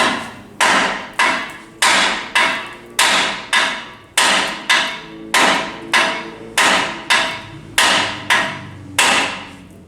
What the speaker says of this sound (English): it's just going to take a little bit of hammering to knock it loose